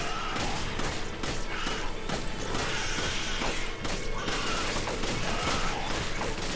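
Continuous rapid gunfire in a shooter video game, dense bursts of shots and thuds running loud through the whole stretch with little pause, a voice faintly underneath.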